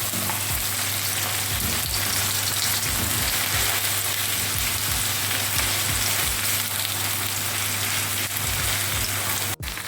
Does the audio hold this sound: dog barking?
no